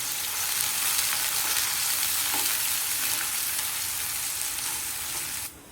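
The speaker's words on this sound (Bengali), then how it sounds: "2টা পেঁয়াজ কুচি দিয়ে হালকা ভেজে নেব।" Two chopped onions fry lightly in hot oil with a steady, close, loud sizzle that holds evenly and then drops off abruptly at the very end.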